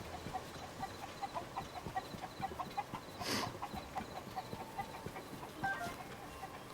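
Chickens in The Legend of Zelda: Tears of the Kingdom give a string of soft, repeated clucks over a low game ambience, with one louder burst in the middle and no voices.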